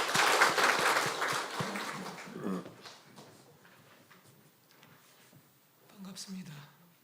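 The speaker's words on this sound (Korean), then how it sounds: "박수 한번 해주시기 바랍니다" A church congregation claps during a Sunday worship service: a loud burst of applause that thins out and fades over a few seconds, leaving a quieter room with scattered low voices and movement.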